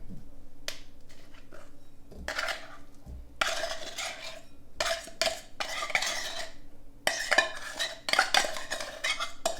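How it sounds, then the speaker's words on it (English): A fork scrapes and clinks against a bowl while drained tuna is moved into it, in irregular bursts of sharp metallic taps and scrapes with short quiet gaps between them. "Grab a fork here. Let's get our tuna in the bowl."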